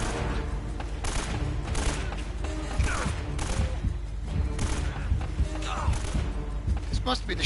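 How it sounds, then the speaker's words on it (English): Assault rifle fire in the video game Uncharted: Drake's Fortune, repeated bursts of shots with booming hits over a rumbling game soundtrack, with someone talking at times. "This must be the shittiest assault rifle ever."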